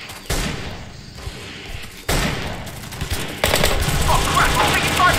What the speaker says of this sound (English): We're taking fire from the sniper tower.